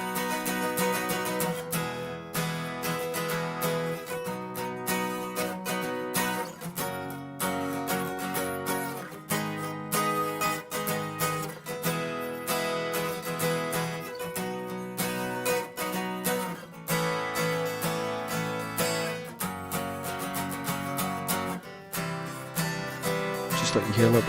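Acoustic guitars treated with EQ, a bit of compression and a touch of reverb play continuously at a steady level, layered and dense throughout, with no voices.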